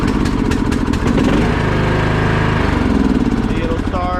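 Troy-Bilt Bronco riding lawn mower engine running loud and close, a steady throbbing mechanical drone that holds for several seconds, with faint voices in the background.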